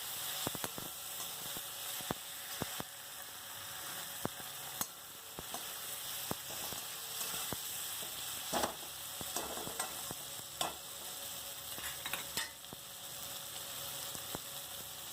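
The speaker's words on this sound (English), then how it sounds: "Now I am adding chopped tomato. This is 1 medium sized tomato I am adding. Now mix it." Chopped tomato and potatoes stirred together in a pan for a masala fish curry, a continuous close sizzle broken by repeated sharp clicks and scrapes of the utensil against the pan.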